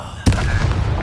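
A fire spell is cast in Hogwarts Legacy, the video game, a single sharp whooshing burst that lands loud and close, then trails off into a crackling rumble for under a second.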